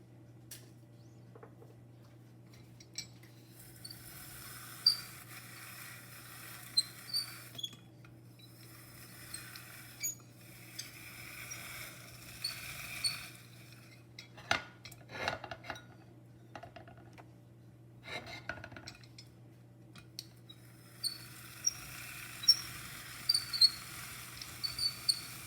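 Washed raw zucchini rubbed against a metal grater in a kitchen, irregular bursts of rasping scrapes with small clinks, fairly close and quiet, pausing between strokes, no talking.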